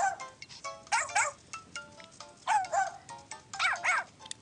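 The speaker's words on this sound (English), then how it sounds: "You've got a really cute bark." Cartoonish dog barks from the Nintendogs + Cats video game, several short yappy barks and whimpering yips in quick bursts over faint background hiss, with no talking.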